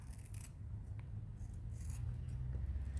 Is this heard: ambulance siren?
no